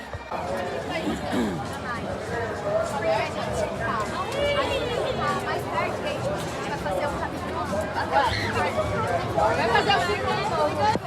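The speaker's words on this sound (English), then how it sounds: "Crowd levels have gone huge here at Cedar Point for Halloweekends." A large crowd at Cedar Point amusement park during Halloweekends fills the air with continuous, dense chatter, many overlapping voices forming a steady babble with no single voice standing out.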